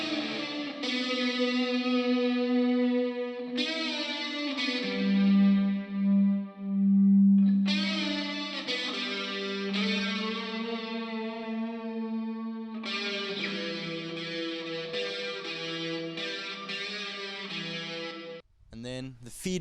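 Distorted lead guitar run through a Boss chorus pedal and DS1 distortion with light reverb, playing a sustained, harmonically rich grunge line with held notes and shifting pitches, loud and continuous, ending in a brief burst of feedback-like noise.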